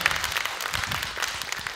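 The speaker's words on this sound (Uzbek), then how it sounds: "qarsaklar rahmat" Audience applause in a studio talk show with a live band, a steady broad wash of many hands clapping at moderate level throughout, with no speech over it.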